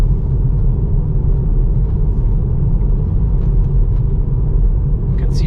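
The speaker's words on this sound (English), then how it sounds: "Oh no, there's still wind. I can hear and feel it now. We've got headwind now." Steady headwind roar and low road rumble fill the cabin of an electric car cruising at about 60 km/h, a continuous loud broadband wash with no motor whine and no talk.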